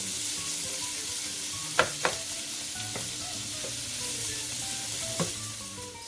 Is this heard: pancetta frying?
yes